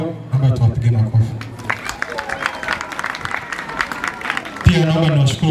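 A congregation claps at a Catholic Mass celebrating a girls' secondary school jubilee: a burst of crowd applause in the middle, framed by someone speaking before and after it.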